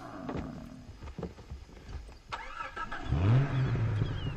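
A vehicle in the video game Far Cry 3 starts up, with clunky handling noises, then an engine catching and settling into a steady, loud idle rumble.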